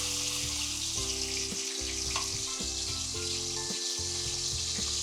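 Garlic paste frying in hot oil for a sweet garlic pickle, a loud continuous sizzle with bubbling and occasional clinks close by.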